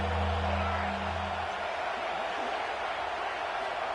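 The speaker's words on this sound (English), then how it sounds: "And here comes the noise. This crowd is trying to inspire this defense to make a big red zone stop." Stadium crowd in the college football video game CFB 26 roaring with a loud, sustained wash of cheering noise, broad and continuous, with a low hum fading early.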